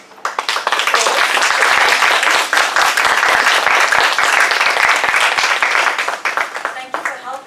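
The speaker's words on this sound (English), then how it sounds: "may I ask you to join me in giving our role players a hearty applause" A breakfast Toastmasters club meeting gives its role players a hearty round of applause that swells quickly, holds loud and close for several seconds, then thins out into scattered claps.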